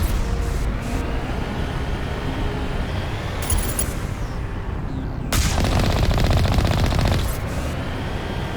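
Rapid gunfire aimed at heavy turrets on Asteroid X57 in Mass Effect Legendary Edition, sustained bursts over a steady game backdrop, with a louder, denser volley near the end.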